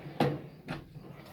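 A metal toolbox drawer slides open in a workshop, one short scraping roll followed by a softer second clunk, close and moderately loud with no talking.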